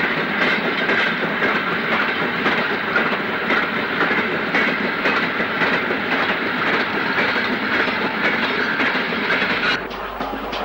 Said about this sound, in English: a train of 16-ton wagons also heads for Tysley.